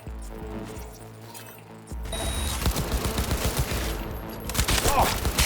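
Rifle gunfire in a cyberpunk video game, a rapid burst of shots that starts after a quieter stretch and keeps rattling steadily, growing louder toward the end.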